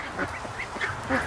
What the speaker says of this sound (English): I got a good chance here to get you a good shot of a Dalmatian duck